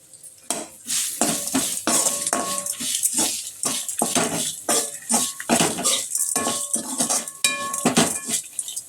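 Coconut goes into a pan already holding fried ingredients for a bottle-gourd chutney, and a metal spatula scrapes and clatters against it in rapid, loud, irregular strokes up close.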